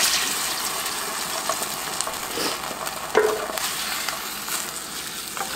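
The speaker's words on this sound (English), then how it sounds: "I've got some fat rendered in the bottom of the pan. I'm going to put my green beans in." Green beans hitting rendered bacon fat in a pan, giving a moderate, continuous sizzle with bubbling crackle and a brief stir or clatter near the middle, close up and without talk.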